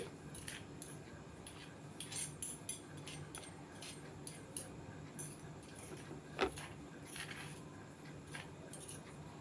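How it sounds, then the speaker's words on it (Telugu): Moringa leaf powder pounded in a mortar, heard as a string of scattered soft clinks and scraping knocks at an irregular pace, with one sharper thud near the end, all fairly faint in a quiet room. "కలిపినానండి ఇప్పుడు దంచుతున్నాను అంతేనండి"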